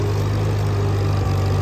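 Steady low drone of an IH 1486 tractor engine running in gear, constant and fairly loud with a strong low hum throughout and no voices.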